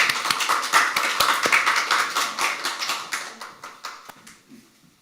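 A church congregation gives a big round of applause during a Sunday joint worship service as a preacher comes forward, the dense clapping loud at first, then thinning and fading out toward the end.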